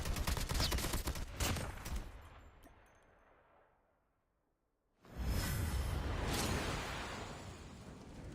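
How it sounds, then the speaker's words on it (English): Loud, sustained AK-47 automatic fire in Call of Duty: Mobile rattles in dense bursts, fades to near silence midway, then resumes at full volume. "But I got my AK-47 with the ice thing."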